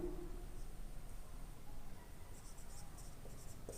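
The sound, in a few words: writing on a board during a physics lesson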